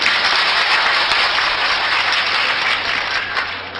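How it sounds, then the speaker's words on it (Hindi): Loud, dense audience clapping at a religious discourse, sustained and even for several seconds and fading slightly at the end. "ताली बजा जोर से एकदम।"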